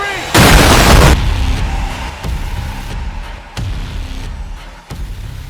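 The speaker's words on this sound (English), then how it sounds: "Brother Maynard, bring up the holy hand grenade" A loud boom-like explosion bursts out early and rings for about a second, followed by several sharper thuds and slams, a game-style holy hand grenade blast effect.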